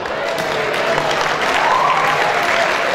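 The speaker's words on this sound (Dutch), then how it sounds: "Dames en heren, een applaus voor Bas." An audience applauds as Bas is called up to the stage, a steady, full round of clapping that holds at even loudness throughout, with a faint voice or cheer rising briefly in the middle.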